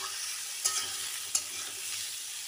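Mixed vegetables fry in a pan with a constant soft sizzle, broken by two sharp scrapes of a spatula as the pieces are stirred.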